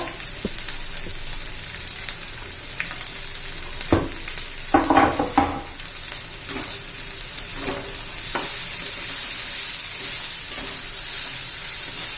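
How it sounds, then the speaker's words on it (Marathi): Finely chopped onion fries in a pan alongside ginger and garlic while cooking chole masala, giving a steady, loud sizzle with occasional stirring and scraping clatter. "बारीक चिरलेला कांदा आपण परतून घेऊया चांगला ब्राऊन कलर होईपर्यंत"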